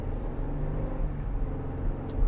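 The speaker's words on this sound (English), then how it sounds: "I can hear the turbo spooling up." A 2025 Toyota Tundra SR with a turbocharged engine pulls at half throttle, giving a steady low rumble from the cabin with a faint rising turbo whistle, continuous and moderately loud.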